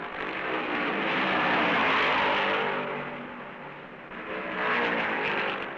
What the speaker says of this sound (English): As they reach the backstretch, Baker and Yarborough run up behind slow traffic